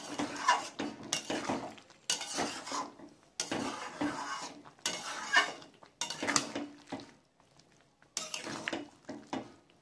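Utensil scraping and clattering in a pan while stirring a Bengali cauliflower roast with sugar and black pepper, coming in repeated close bursts with short pauses between them.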